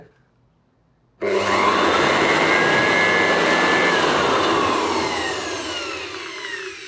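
An electric air blower switches on after about a second of quiet and runs steadily, a loud, close, broadband whooshing roar with a whining motor tone, easing slightly toward the end.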